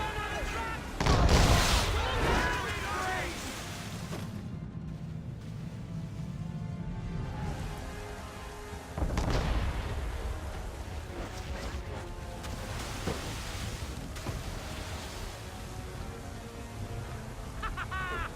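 Ship cannons boom in the naval combat of Assassin's Creed III, a couple of heavy blasts rising over continuous game noise with a voice talking throughout.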